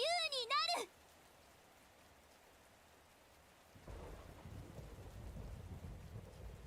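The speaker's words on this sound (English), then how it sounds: "soon thunder rolls across the heavens, making the ghostly lights flicker and dance" Thunder rumbles and rain pours in the Path to Nowhere video game: a short musical chime flourish gives way to near silence, then a low, steady roll of thunder and dense rainfall swells in and holds to the end.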